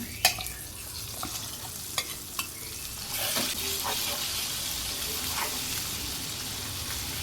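Puliyogare spice paste frying in a hot pan, a steady sizzle with a few sharp stirring clicks early on, then a louder, broader frying hiss from midway through.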